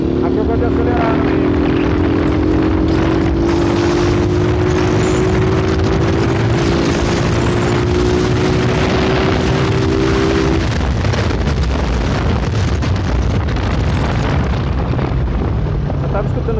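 Motorcycle engine on a ride through Bauru, a steady loud drone with rising harmonic tones as it accelerates, under constant wind rush and with someone talking over it.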